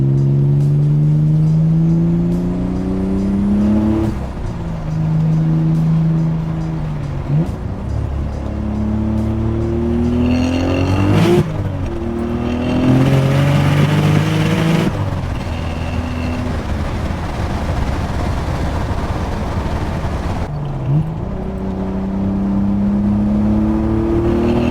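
A turbocharged Nissan 300ZX accelerates hard through several gears, its engine note climbing loudly then dropping at each shift, with a loud, close, in-car drone and a roughly wheelspinning surge throughout.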